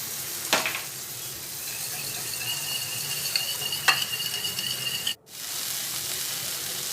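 Onions sizzling in a pan for egg kothu parotta, a steady close frying hiss with a few sharp clinks, then a brief dropout before the sizzle resumes, no talk.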